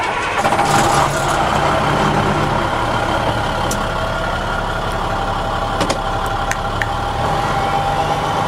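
A 2004 International 7500 truck's diesel engine turning over and catching, then settling into a steady, loud idle that runs throughout with faint clicks and rattles on top.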